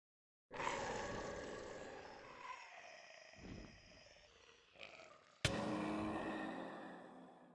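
A low-pitched ghast death sound from Minecraft, used as a Dementor's kiss effect: a long, rough, growling wail with a sharp hit near the end, dark and continuous with no speech.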